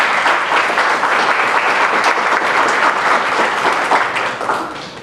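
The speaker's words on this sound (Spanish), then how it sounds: "Para ellos también un fuerte aplauso." Loud, dense applause from the audience at a Nuevo León society assembly, a continuous wash of clapping that holds steady before easing slightly at the end.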